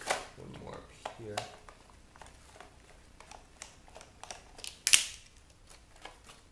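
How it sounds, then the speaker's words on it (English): Screws being undone along the sides of a plastic LeapPad casing, a series of faint clicks and scrapes with a few sharper ticks, close by and quiet, with occasional voice in the background. "now I'm going to undo some more screws all along the sides here"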